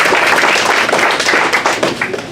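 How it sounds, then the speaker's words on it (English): An audience gathered at a public event applauds a newly introduced staff member, producing a loud, close, continuous burst of many hands clapping that fades slightly toward the end. "give him a lot of applause"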